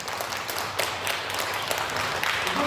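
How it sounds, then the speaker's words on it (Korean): A church lecture audience claps together in a steady, moderately loud round of applause, with dense overlapping hand claps and no talk over it. "우리 박수 한번 합시다."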